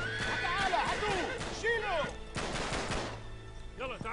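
A horse whinnies loudly several times in the Uncharted 3 video game. Gunfire and hoofbeats play alongside, and a voice talks over the action.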